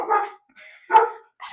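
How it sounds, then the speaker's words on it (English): Indoor dogs let out several sharp barks and yips in quick succession, fairly close and loud, with short silent gaps between them and no talk over them. "Sorry about the dogs, guys."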